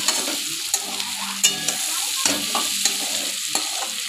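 Chopped onion fries in oil while being stirred briskly, a loud close sizzle broken by frequent rhythmic scrapes and knocks of a spoon against the pan.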